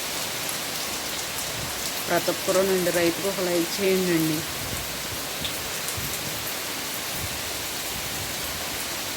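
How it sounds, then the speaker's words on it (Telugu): Steady rain falls over a farm field, a constant broadband hiss throughout, with someone speaking briefly over it partway through. "మళ్ళీ ఈరోజు వర్షం రాని వచ్చింది"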